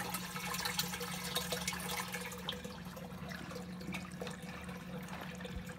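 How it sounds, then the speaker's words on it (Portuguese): Water driven by a 300 to 550 litre pump pours steadily into an aquaponics grow bed, a continuous close rushing and splashing flow with no pauses. "Fluxo de água um pouquinho maior do que eu tinha planejado."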